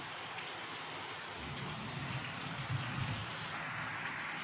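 Heavy, continuous rain falling in a village during a day-long downpour, a faint steady hiss with a soft low rumble under it, heard at a distance and without any voices.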